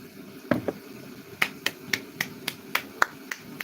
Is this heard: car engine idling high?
no